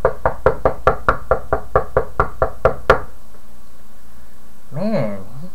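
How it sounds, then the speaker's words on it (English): Steady knocking on a door, about thirteen quick, evenly spaced raps close by, followed by a short silence and a brief voice. "Man, he continues to knock."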